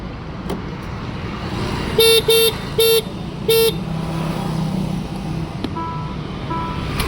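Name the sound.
Ola electric scooter horn honking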